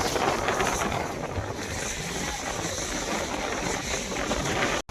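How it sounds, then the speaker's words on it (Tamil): Strong wind roars across Veeranam lake during Cyclone Fengal, with waves churning in a constant, dense rush and wind buffeting the microphone, loud and unbroken until a sudden cut at the end. "வீராணா ஏரியில் ஒரு அலை பயங்கரமாக இருக்குது அலையே"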